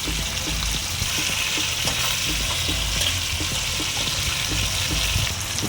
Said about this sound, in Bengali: কিছুটা মাছ দিয়েছি, আর বাদ বাকি যে মাছগুলো আছে এরকমভাবেই আমি ভেজে নেব